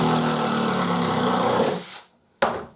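A DeWalt cordless screwdriver whirs steadily and loudly for about two seconds, cuts off, then gives one short burst a moment later, with no voices.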